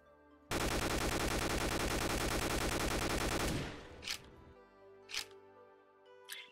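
Gunfire from a multiplayer video game in development rattles off as a dense, loud burst of rapid automatic shots lasting about three seconds, followed by a few separate short clicks or pops.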